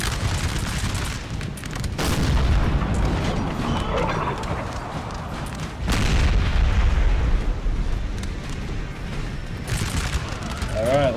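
Massed musket and cannon fire cutting down cavalry in Napoleon Total War, a continuous roar of volleys and booming blasts, loud and dense with overlapping crackles throughout.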